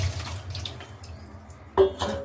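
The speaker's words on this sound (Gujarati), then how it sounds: "આપણે એને હવે નિતારી લઈ પાણી બધું કાઢી નાખીએ આપણે" Water from boiled spinach poured off and drained in a kitchen, a short watery trickle with light splashes and a sharper pour near the end, close and moderately loud.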